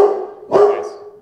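A single sharp dog bark rings out close by, rising briefly over a steady low hum in an indoor room.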